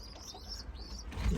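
Pigeons kept in a breeding loft give soft, faint cooing calls with a few light chirps over low background noise.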